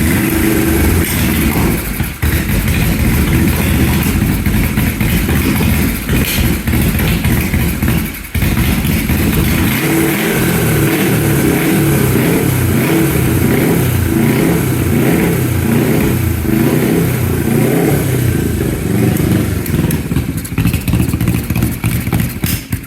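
A 1980 Yamaha XS400 motorcycle engine runs loud and close, rough idle rising into repeated revs with mechanical clatter, steady for over twenty seconds with no talk.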